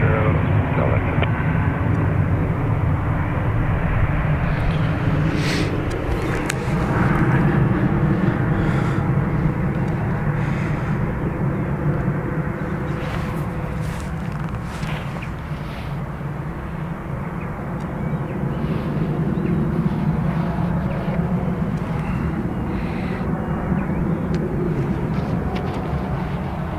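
A Ryanair jet's engines roar steadily at Dublin Airport as it departs on runway 28 right, a loud continuous broadband rumble that swells and eases slightly over time without any talk.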